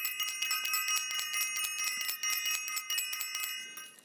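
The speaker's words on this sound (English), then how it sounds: "I want to ring the bell" Bright metallic bell rung rapidly in a continuous shimmering series of strikes, close and loud, with dense overlapping ringing tones and no voices.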